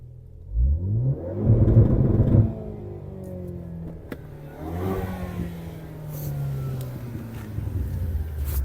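A Ford Focus ST is driven, and its engine revs up hard with a rising, strained note. It then shifts and climbs again through the gears, loud and close, with the mechanical rumble continuing throughout.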